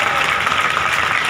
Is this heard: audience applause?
yes